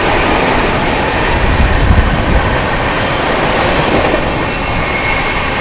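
Rohtak–Kamakhya Amrit Bharat Express train rushing at high speed through Etawah Junction without stopping, a loud, steady roar of wheels and carriages sustained throughout, swelling slightly near the middle.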